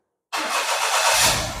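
A Perodua Viva Elite's engine cranks and catches after silence, the starter whirr giving way to a steady, close-up running roar that builds slightly as it settles.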